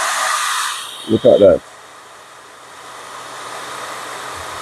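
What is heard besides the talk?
hair dryer running on a 5 kW hybrid inverter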